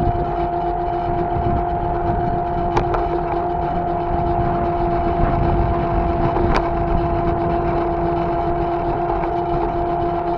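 A motorcycle riding on the road makes a steady, loud engine drone with a constant hum and wind rumble, plus a couple of brief sharp clicks, with no talking.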